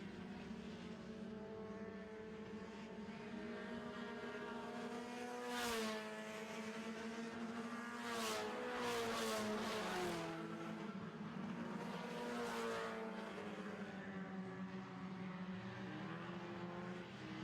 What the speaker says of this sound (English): Two heats of four-cylinder stocks here today.